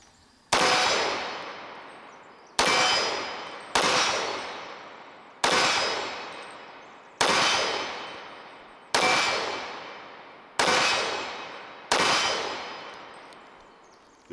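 Eight sharp, loud pistol shots from an Iver Johnson Hawk Commander 1911 with a cast frame, fired at an uneven pace about one to two seconds apart, each ringing out in a bright decaying tail, with no talking.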